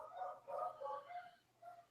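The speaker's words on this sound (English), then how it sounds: "Dogs are barking." Dogs bark in a few short bursts, loud and close at first, a pause, then one more bark, over a low steady hum.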